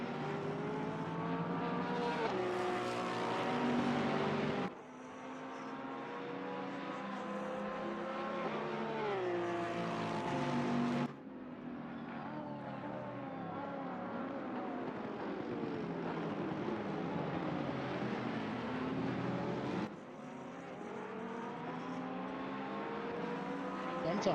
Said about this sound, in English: I just love to hear these cars go around the track